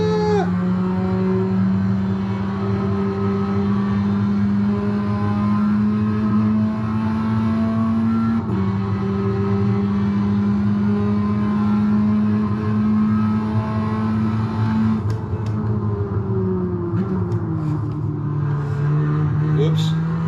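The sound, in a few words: racing car engine accelerating out of a corner in a sim racing game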